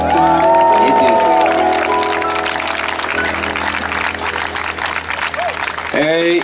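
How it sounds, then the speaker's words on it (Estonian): Applause and cheering from a large crowd at an Estonian song festival, dense and sustained, with music and voices mixed in over the clapping. "Tehke eestlastele ja eestlusele suur aplaus."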